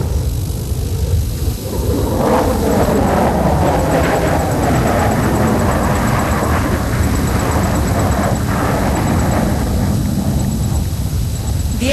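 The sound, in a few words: Sukhoi Su-30 MKI fighter jet flying past grandstand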